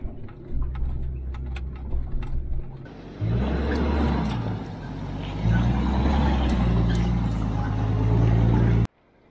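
A truck in 4-low climbs a steep mountain dirt road toward a fire lookout, with no trailer attached. Its engine drones in a loud, steady rumble that deepens and strains partway through, then cuts off abruptly at the end.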